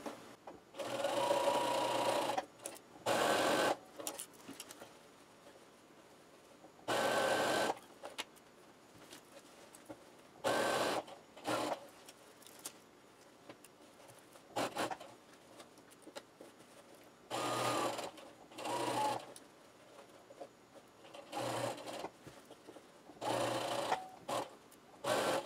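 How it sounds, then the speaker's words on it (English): A sewing machine runs a top stitch around the edge of a grocery bag, in repeated loud bursts of stitching separated by short pauses, close up with no talking. "what we're going to do is just put a top stitch on around this edge."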